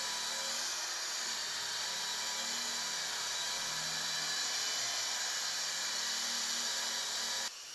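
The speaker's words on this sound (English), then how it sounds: "change to a softer disc with a hardness grade of" Straight grinder fitted with a soft abrasive disc working a stainless steel pipe after weld seam removal, a steady high-pitched whine with grinding hiss running continuously and loud, cutting off at the end.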